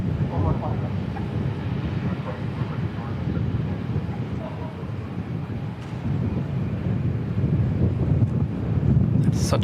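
A Singapore Airlines Airbus A350 jet airliner gives a steady, distant low roar, mixed with gusty wind buffeting the microphone, over about ten seconds.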